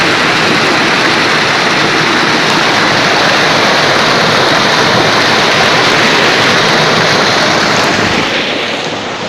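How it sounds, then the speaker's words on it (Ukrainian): Dirty, incompletely treated wastewater pours by gravity from a well outlet into the first biological treatment pond, making a loud, steady rushing roar of falling water that fills the whole stretch. "вода самотічно поступає у ставок номер 1"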